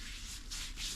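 A hand rubs linseed oil into the wooden handle of an old shop hammer, making a soft, steady scrubbing hiss in rhythmic strokes. The sound is close and faint, and nobody speaks.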